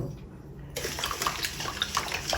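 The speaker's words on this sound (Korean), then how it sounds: "물을 대충 이렇게 한 2~3컵 정도 이렇게 해주세요." Plain bottled water pours steadily into a bowl while kimchi is being made from autumn young radish, a close, continuous splashing gush that begins abruptly and keeps running.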